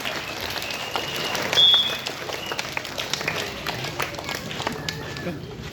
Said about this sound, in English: Applause, please. Applause, everyone.